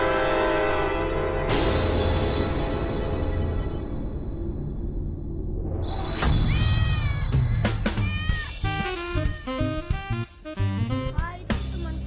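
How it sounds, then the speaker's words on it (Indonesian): A cat meows repeatedly in a loud, drawn-out series, the cries growing shorter and more clipped toward the end, heard alone without talk. "itu teman kucing, Rafa."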